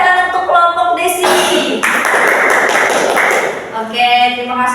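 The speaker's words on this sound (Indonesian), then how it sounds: "Beri tepuk tangan untuk kelompok Desi" A fifth-grade Islamic studies class applauds a student group in a steady burst of clapping lasting a few seconds, with a teacher's voice just before and after.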